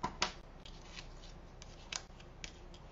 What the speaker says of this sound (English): And then with this one, I'm going to snip this off.